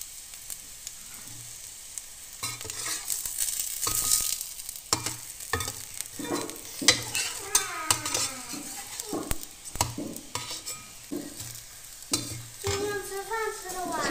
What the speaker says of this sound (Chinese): 这是我今天煎的饼